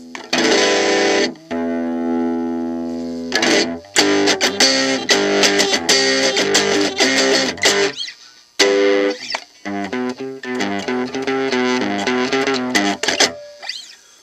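Electric guitar runs through a TC Booster LineDriver vintage pedal with the distortion turned high, giving a loud, gnarly, buzzing tone as chords ring out and are cut off in bursts, with brief pauses between strums.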